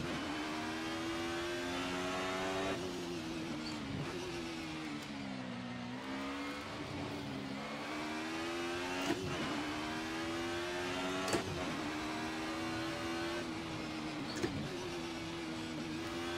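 A race car engine droning steadily through a lap in Assetto Corsa, pitch rising and falling with each gear change and corner, with a few sharp shift clicks, heard alone without talk.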